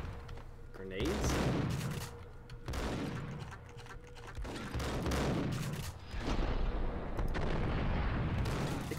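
Gunfire at the bottom of a stairwell in the Max Payne video game, several loud close bursts of shots and blasts in quick succession, each ringing out briefly before the next, with no speech over them.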